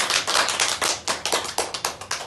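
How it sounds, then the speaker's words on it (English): Guests at a wedding reception applaud the couple, a short burst of close, uneven clapping with no talk. "let's give them a big, big round of applause"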